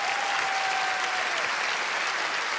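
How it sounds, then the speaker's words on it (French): A live stage show audience breaks into a dense, steady burst of applause as a spectator walks up onto the stage. The clapping is loud and sustained for the whole stretch. "Montez sur scène sous un tonnerre d'applaudissements"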